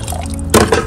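Fermented garden enzyme liquid poured into a container while mixing seedling fertilizer: a quiet lead-in, then a short, close wet gush and splash near the end.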